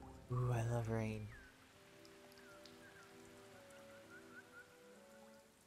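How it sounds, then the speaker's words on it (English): Soft, steady rain falls in the video game Sky: Children of the Light, a faint continuous patter that carries on after a loud voice at the start, with a quiet melodic game score underneath. "Ooh, I love rain."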